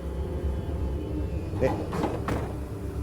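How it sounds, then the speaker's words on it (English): A car door sound effect plays in a DSLR video demonstration: a few quick knocks and a thud cut in midway over a steady background hum, with talking around it. "They put a car door audio effect on there."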